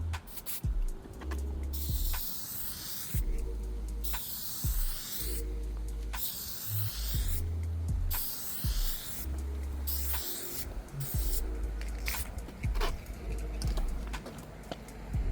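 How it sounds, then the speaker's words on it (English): Aerosol spray can applying clear coat to a car headlight outdoors, heard as repeated short hissing bursts separated by gaps, fairly close and steady in level. "So just going to pull this back, do a little test spurt."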